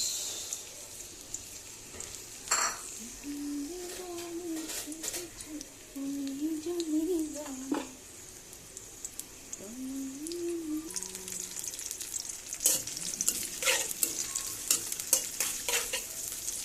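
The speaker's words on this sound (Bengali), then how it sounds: "তেল দিয়ে দিয়েছি, এখন চলে যাবে পেঁয়াজ।" Onions fry in hot oil at the start of a dried fish curry, a close, continuous sizzle broken by repeated stirring scrapes and clatters, while a voice hums or murmurs faintly underneath.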